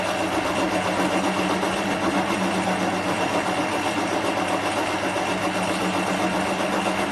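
A metal lathe turns home-cast aluminium round stock at a coarse speed. It makes a steady, continuous mechanical whir and hum with a rough cutting hiss, holding an even level throughout with no talking.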